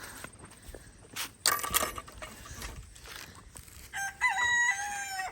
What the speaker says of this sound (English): So that's what we have for our rescued chickens.